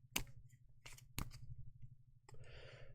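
Tarot cards shuffled by hand in a few quick, close riffling bursts separated by brief pauses, ending in a longer soft papery rustle.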